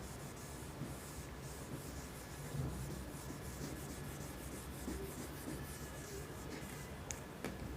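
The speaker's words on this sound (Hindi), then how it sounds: "चलिए रब करते हैं इसको" Eraser rubbing out pencil writing on paper in a maths exercise book, a faint, steady scratchy rubbing that continues for several seconds with small strokes and a quiet background.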